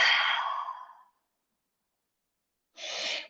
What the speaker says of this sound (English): Deep breath out, releasing breath.